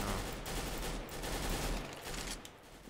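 Rapid gunfire from a CS:GO match, dense overlapping bursts and volleys that stay loud and continuous throughout with no talk over them.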